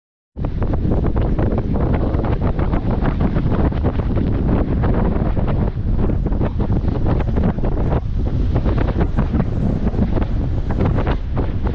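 Strong wind at Sleeping Bear Dunes buffets the microphone, a loud, constant roaring rumble that sets in abruptly and carries on steadily with no voices.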